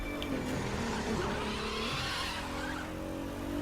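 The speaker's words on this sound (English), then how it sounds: "Very good handbrake." Car handbrake skid in The Crew 2 racing video game, a continuous tire squeal and engine roar lasting several seconds at steady loudness.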